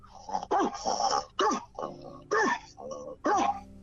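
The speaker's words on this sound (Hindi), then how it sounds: "कुत्ते ने भी जोर से चिल्लाना शुरू किया, बोलना शुरू किया, भौंकना शुरू किया" A dog barks and yelps in several sharp bursts as a sound effect in a radio children's story, fairly close, with short gaps between the loud cries.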